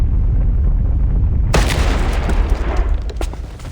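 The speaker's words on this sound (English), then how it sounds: "The explosion sends smoke and dust flying in all directions." A door is blown apart in the game Reverse: 1999, heard as a heavy low rumble that erupts into a loud, broad blast about halfway through and then sustains a roaring, debris-filled decay.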